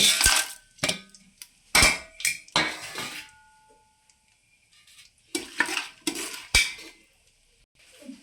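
Shahi jeera dropped into hot oil in a pan, with sharp clinks and scrapes of a spoon stirring and a brief sizzle, in irregular bursts separated by quiet gaps, close up.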